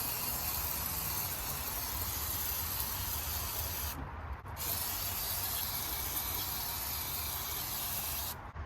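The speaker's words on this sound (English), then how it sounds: "I'm gonna go ahead and just spray this whole carb down, see if I can get things freed up on it." Carburetor cleaner sprayed over the carburetor of a Ford Falcon that sat for 46 years: a loud, steady, close hiss with brief breaks near the middle and the end.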